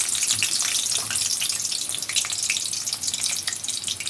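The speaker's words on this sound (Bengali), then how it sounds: "কড়াইয়ে তেল বসিয়ে দিয়েছিলাম, তেলটা গরম হয়ে গেছে। এখন দিয়ে দিচ্ছি কিছু রসুন কুচি" Chopped garlic sizzles in hot oil in a wok, giving a steady, bright crackling hiss that carries on evenly without pause.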